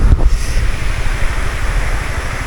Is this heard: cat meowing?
no